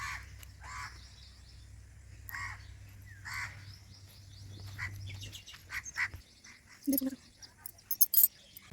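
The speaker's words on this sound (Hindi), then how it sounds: "ए दे बिहन हेल कौआ गाँव गाँव करत हवे" A crow caws in a village: several harsh calls come in separate bursts early on, fairly near, over a low steady hum, with faint chirps and scattered clicks later.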